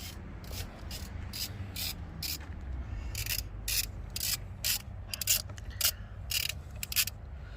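A ratchet wrench clicks in quick bursts while the starter bolts are loosened on a Toyota Land Cruiser V8, close and loud, the bursts separated by short pauses, with no talk.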